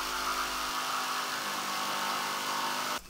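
A jigsaw cuts through wooden pieces for a planter box with a sustained, even buzzing whine close by, running steadily for about three seconds before stopping abruptly, with no talk.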